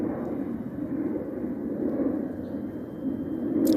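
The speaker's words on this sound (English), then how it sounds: "Airplane flying right over." An airplane passes overhead above a city street corner, a steady, loud low rumble that holds for the whole stretch and swells slightly near the end.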